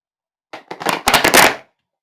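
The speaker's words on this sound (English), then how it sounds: "There's one shuffle." A deck of cards is shuffled in a quick riffle, a short burst of crisp fluttering clicks building to a dense rattle and stopping abruptly, close and alone.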